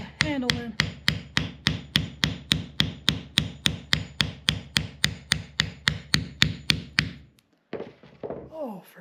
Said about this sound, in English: Now, pounding the hammer, or the handle in.